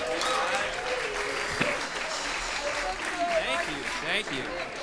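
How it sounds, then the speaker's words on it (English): A crowd at a Dopapod VIP brunch show at Garcia's in Port Chester, NY claps in steady, sustained applause while someone speaks over it. "Everyone give a warm round of applause"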